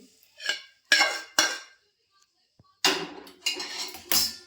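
Roasted sesame seeds are scraped out of a pan after the heat is turned off. Separate metallic scrapes and clinks come close up, with pauses between them, then a quicker cluster of scraping at the end.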